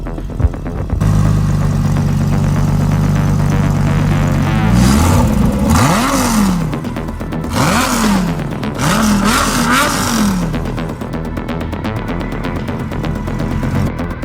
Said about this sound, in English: This is, of course, the Lamborghini V10.